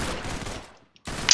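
Gunfire in the Roblox-style shooter Arsenal, a rapid burst of loud shots that cuts to a brief silence and then resumes with another sharp volley.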